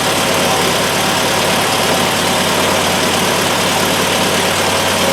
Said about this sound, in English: The exhaust sounds pretty good, actually.